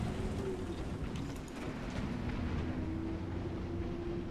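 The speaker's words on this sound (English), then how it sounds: "Sorry about that truck noise, boys." A truck's background noise leaks in as a faint, steady low rumble with a droning engine tone under War Thunder tank gameplay, and no other sounds stand out.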